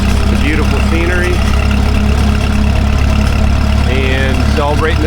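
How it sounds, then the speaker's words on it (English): A tractor engine idles steadily at a small Fourth of July parade, a loud, close, continuous low rumble with a few faint higher tones drifting over it. "it's just nice to sit here and enjoy this tractor, which I love this tractor"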